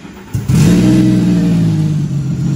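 A 300-horsepower mini jet boat engine with no coolant catches after a short crank, then revs hard and holds a loud, steady roar close by.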